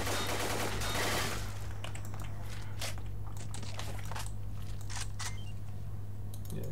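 A gun in the video game Arsenal Overhaul Redux is fired until its magazine is empty, a dense burst of rapid shots followed by scattered clicks and clatter over a steady low hum.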